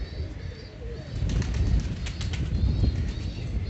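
Pet home pigeons flap their wings in close, soft fluttering bursts that grow a little fuller midway, with no voices present.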